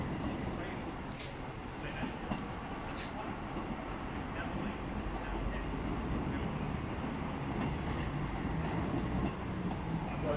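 A train rumbles and rattles steadily nearby at Liverpool South Parkway station, with occasional clacks and squeaks over a low continuous drone.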